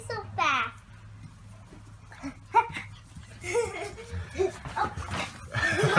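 Foster puppies at playtime give small yips and whimpers amid scampering, with people talking and laughing over them and a steady low hum underneath.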